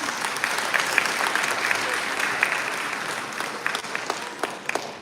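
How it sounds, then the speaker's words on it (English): Sustained audience applause after a dance performance at an arangetram, a dense wash of clapping throughout with a few sharper individual claps near the end. "Can we please have another round of applause?"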